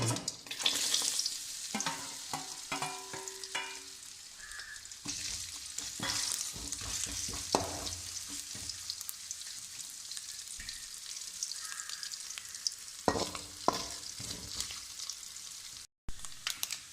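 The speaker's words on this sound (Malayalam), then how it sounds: "നമുക്കിനി കുറച്ച് തേങ്ങാക്കൊത്ത് വറുത്തിടാം" Coconut pieces fry in hot ghee in a pan for ada pradhaman, a close steady sizzle broken by scraping, clinking stirs of a spoon against the metal.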